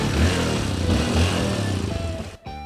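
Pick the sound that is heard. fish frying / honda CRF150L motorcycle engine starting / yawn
honda CRF150L motorcycle engine starting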